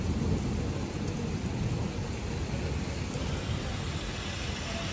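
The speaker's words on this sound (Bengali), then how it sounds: "বিশাল জোরে বৃষ্টি হচ্ছে" Heavy rain pours down in Dubai, a dense, steady roar of water hammering surfaces close by, unbroken and loud throughout with no voices over it.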